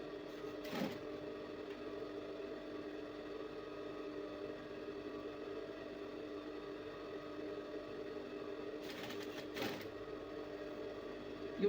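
A sewing machine runs steadily while stitching a half-inch sleeve seam, giving a faint, continuous motor hum with a couple of brief louder bursts and no speech.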